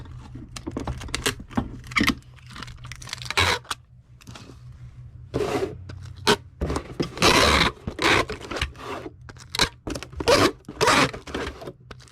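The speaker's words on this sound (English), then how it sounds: "so we're going to go ahead and do up the 864 boxes. And how to tape." Packing tape is pulled and pressed onto cardboard shipping boxes in a run of quick, scratchy, ripping bursts with short pauses, close to the microphone.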